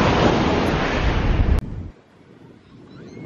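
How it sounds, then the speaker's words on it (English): Strong wind buffets the microphone at Makena Beach, Hawaii, a loud roaring rush that cuts off suddenly partway through, leaving faint surf and breeze behind. "it's getting a little windy"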